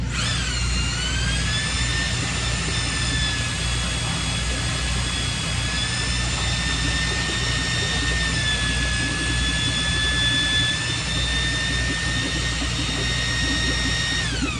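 A handheld drill mixer churns self-leveling compound at about 650 RPM, giving a steady, loud, high-pitched motor whine that holds unbroken for roughly fifteen seconds with no talking.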